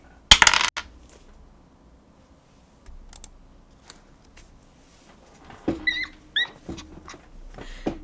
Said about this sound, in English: I'm gonna roll a dice